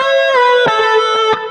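Electric guitar playing a string bend held perfectly in tune, a sustained bright bent note with rich harmonics and several softer picked attacks, clear and close with no talking.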